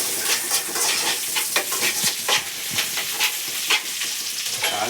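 Tempering for mochai (field bean) sundal crackles and sizzles in a hot pan with short stirring scrapes, a steady close frying hiss broken by bright spattering pops.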